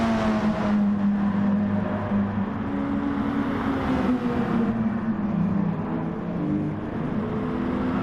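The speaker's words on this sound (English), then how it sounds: "As we see both Daz and Berkey spinning up the rear tyres." Racing saloon car engines in an Asian Super Saloons feature race as the cars spin up their rear tyres, a steady droning whine with shifting pitch that holds loud and unbroken throughout.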